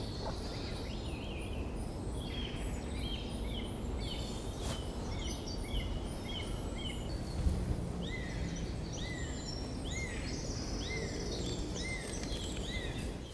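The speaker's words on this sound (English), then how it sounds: "It's the song thrush, lovely throaty song" A song thrush sings during a dawn chorus, repeating short throaty phrases over a steady outdoor background hiss, with other birds calling faintly in the distance.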